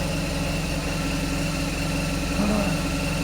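A BMW R1200GS motorcycle engine idles steadily nearby with a constant, even rumble, with no talking.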